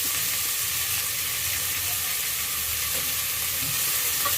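Onions being sautéed in a pan for brinjal and ridge gourd sambar give off a steady, even hiss of frying, close and fairly loud, with no voices over it.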